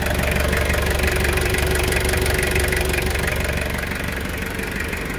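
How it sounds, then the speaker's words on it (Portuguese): An idling Toyota Hilux SR pickup engine, running again after a year parked and a jump start, holds a loud, close, steady rumble with a rapid knocking pulse throughout. "Vocês acreditam que só foi fazer a chupeta e ele pegou na hora?"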